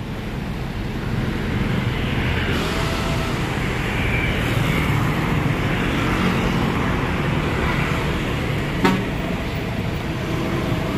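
A bus pulling away on the Banda Aceh–Medan road, a steady roar of engine and traffic noise with a brief clunk near the end, fairly close and continuous.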